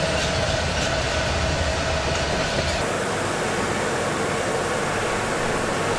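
A coal train rolls past on the railway near the Firth of Forth, a loud, continuous rush of wagons with rumbling wheel noise that holds steady and shifts slightly as the cars go by, close and alone.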